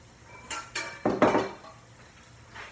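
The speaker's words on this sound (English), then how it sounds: "So I'm going to get my bowl for my machine here" The bowl of a kitchen machine being picked up and set in place, giving a few close clanks and knocks of hard material, loudest in a cluster midway, then fading.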